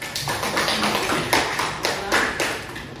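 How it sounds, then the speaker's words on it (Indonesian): A class of students claps in a short burst of applause, a dense patter of hand claps with a few sharper accents, moderately loud and close, with no speech. "Kita kasih aplaus."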